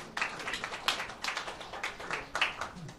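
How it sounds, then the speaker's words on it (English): An audience at a science café talk on sports concussions breaks into scattered clapping, with a few sharp claps standing out over a low, steady patter of applause. "Yeah, you can clap for Zach."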